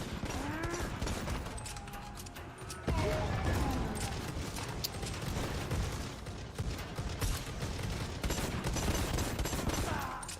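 Dense, continuous gunfire and explosions in the Warhammer 40k shooter Necromunda: Hired Gun, with rapid shots and area-effect blasts popping all around, loud and layered throughout.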